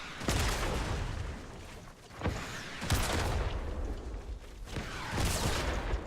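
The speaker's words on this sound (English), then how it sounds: "when they start shooting, I let them shoot about 4 rockets" Rockets fired in the video game Fortnite Battle Royale come as a few heavy, booming launches and explosions at intervals of one to three seconds, loud and dense against constant rumbling game noise, with no talking.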